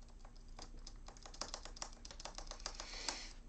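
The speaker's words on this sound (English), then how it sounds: "every time I hit the spacebar here on my keyboard" Someone is typing on a computer keyboard, with the spacebar struck repeatedly. A quick, uneven run of light clicks and taps sounds close by at low volume with no voices.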